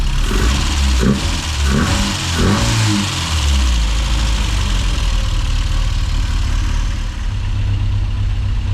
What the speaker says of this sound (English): it's actually idling quite alright now, but it does tend to get a little bit lumpier after a while